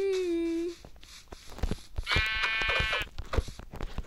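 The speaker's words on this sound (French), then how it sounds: "si j'en trouve, là, mouton, petit mouton." Sheep bleating in a hardcore survival video game, two drawn-out bleats, the first short and low, the second longer and higher, fairly loud amid game clatter and footsteps.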